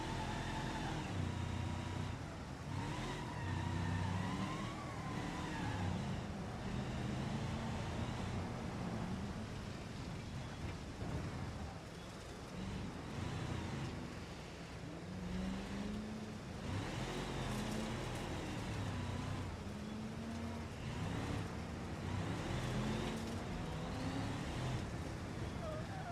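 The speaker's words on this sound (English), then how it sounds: "Rallycross with trucks is quite the spectacle." Rallycross trucks, including two-wheel-drive pickups, race around a muddy industrial track, engines droning and revving continuously in a dense, fairly distant roar with shifting pitch as they slip and accelerate.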